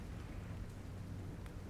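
Steady rain with a low thunderstorm rumble, a constant faint wash of drops over a deep murmur, with no voices.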